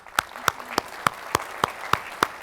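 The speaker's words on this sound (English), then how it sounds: "Big round of applause." Steady, evenly paced claps, about eight crisp beats in quick succession, sound at a conference as an audience applauds a panel of speakers.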